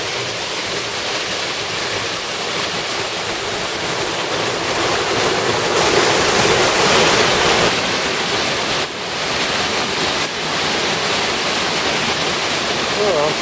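A waterfall near Ashlu Mine roars steadily nearby, a dense, constant rush of crashing water filling the whole clip.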